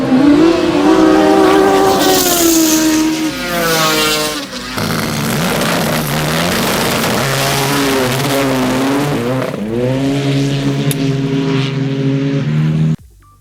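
The Hypersports HRC-4 snowmobile engine revs hard and loud, its pitch climbing and dropping through repeated accelerations before cutting off abruptly at the end.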